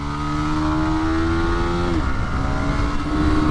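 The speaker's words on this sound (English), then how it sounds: "The traction control's cutting in on track" Yamaha R125 125cc motorcycle on a track, engine revving loudly and steadily, the pitch dropping sharply as traction control cuts in, then climbing again, close and continuous.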